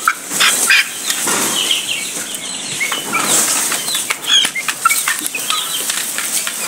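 Bantam chickens flap their wings inside a cage in a continuous, loud, close flurry of fluttering and rustling, with scattered scratchy patter and thin chirps.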